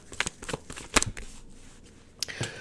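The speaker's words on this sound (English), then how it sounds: "let's go ahead and pull those clarifiers" Tarot cards are shuffled and pulled from a deck in quick papery riffles and flicks, close and fairly crisp, with brief pauses between bursts.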